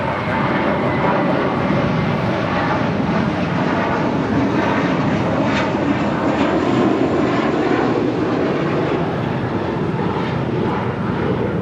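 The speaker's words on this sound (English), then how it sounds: "departing to Newark with JetBlue Airways, Flight 1374, and A321 in the First Mint livery" JetBlue Airways Airbus A321 jet departing Los Angeles airport gives a loud, continuous engine roar with a broad rumbling rush, close and steady, with no voices over it.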